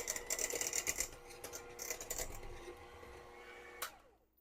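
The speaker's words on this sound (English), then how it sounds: "And then we'll give this a good run with the mixer." Electric hand mixer whirring through mashed potatoes with milk, close and fairly quiet, its pitch wavering as the beaters churn, ending with a clack before it stops.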